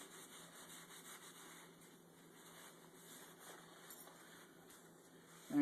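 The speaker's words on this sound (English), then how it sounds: "And you rub down the potatoes" Oily hands rub down potatoes for a Dutch oven dish, giving a soft, continuous wet rubbing and squishing close by, quiet under a faint steady hum, with a small bump at the end.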